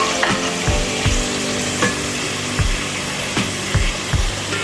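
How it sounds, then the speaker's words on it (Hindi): Tomatoes go into browning onions in a hot pan for Hyderabadi masala chicken curry. There is a loud, steady sizzle, broken by regular scraping strokes of a spoon, and no voices. "अब मैं इसके इसमें टमाटर डाल दूँगी।"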